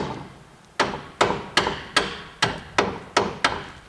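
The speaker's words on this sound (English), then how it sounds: "so I'm gonna hit these with my hammer." Seven sharp metallic hammer strikes on car strut bolts ring out one after another at an uneven pace, loud and close, with brief decaying ring after each blow.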